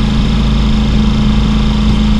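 A Ducati Pikes Peak motorcycle with an Akrapovic full titanium exhaust runs loud and close, a steady deep throbbing engine note with no talk.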